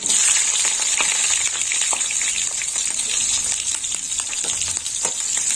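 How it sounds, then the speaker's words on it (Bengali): Garlic and slit green chilli fry in hot oil as a tempering with a loud, continuous sizzle, dotted with sharp crackles and pops throughout. "ফোড়নটা একটু ভাজা হোক।"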